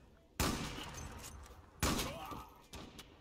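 Two heavy gunshot blasts a second and a half apart from an AWP sniper rifle in the online shooter Zula, each with a long reverberant tail, followed by a fainter third crack.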